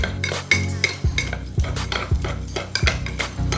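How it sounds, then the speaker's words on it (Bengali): A spoon stirs custard powder into separated milk for matka kulfi, clinking and scraping against the bowl in a steady repeated rhythm, close and fairly loud. "এখন এই আলাদা করা দুধটার মধ্যে আমি দুই চামচ কাস্টার্ড পাউডার দিয়ে দিতেছি এটা ভালো করে একটু গুলাই নিতেছি"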